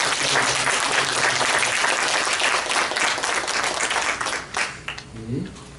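A church congregation at a Korean thanksgiving service breaks into loud, dense applause that carries on steadily for several seconds, then fades away as a voice comes in at the close.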